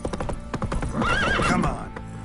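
Roach, a horse in The Witcher 3, gallops with rapid rhythmic hoofbeats, and a loud whinny rises in the middle of the clip. A voice is faintly audible underneath.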